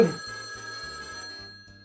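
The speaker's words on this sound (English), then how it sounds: "Is the phone seriously ringing right now?" A telephone rings indoors with a steady, electronic bell tone pulsing in short repeated bursts, fairly faint and alone, with no talking.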